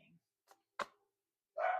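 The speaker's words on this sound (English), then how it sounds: "My dog is barking." A pet dog barks twice from somewhere in the house, short sharp yelps separated by quiet gaps, fairly faint and somewhat distant, with a brief soft noise before them.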